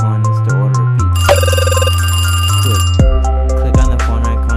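A telephone rings in a Wii U pizza-delivery game, a loud bright electronic trill lasting a couple of seconds over steady game music.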